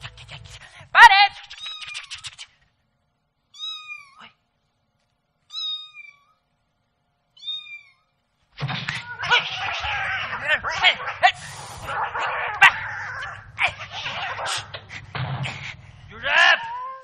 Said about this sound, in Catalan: Josep, què li passa al gat que està ahí bagullat?